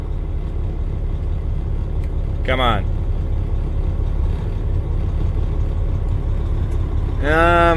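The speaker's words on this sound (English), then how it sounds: "get that high idle going" A heavy diesel engine idles steadily at a raised, constant rumble throughout, with a brief voice and a couple of high squealing tones over it.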